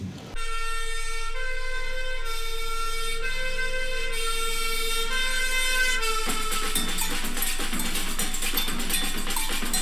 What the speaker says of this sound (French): En pleine nuit, une sirène appelle au feu tous les pompiers.